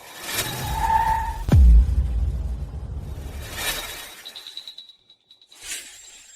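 A car skids and crashes: a whooshing rush builds into a sudden heavy impact with shattering glass and a deep thud, then rumbling debris fades, followed by a thin ringing tone and another brief swish.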